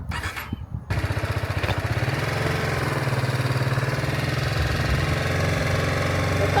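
A motorcycle engine catches after a brief crank and settles into a close, loud, steady idle with a rhythmic, chugging putter.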